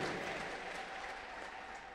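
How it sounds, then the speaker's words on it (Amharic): Sustained applause from an audience at a church gathering, dense steady clapping filling the whole moment at an even, fairly strong level with no break. "ከዚህ በላይ በኃይል አጨብጭቡላት"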